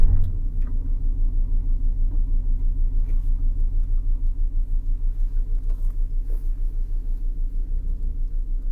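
Car engine idling and pulling away at the start of a driving lesson for teenagers, a steady low rumble with a regular pulsing throb, close and alone throughout.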